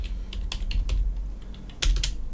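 Quick, light keystrokes on a computer keyboard as a folder name is typed, a steady patter of close clicks with a short burst near the end.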